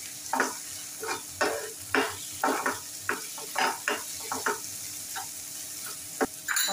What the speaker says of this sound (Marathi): आता बारीक चिरलेला टोमॅटो घालूया. तो सुद्धा छान परतून घेऊया.